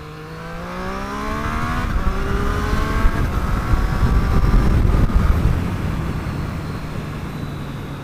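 Triumph Street Triple RS engine under light throttle, a steady, fairly loud droning growl with rising harmonic tones as revs climb slowly, heard from the rider's position with wind rush, no talking.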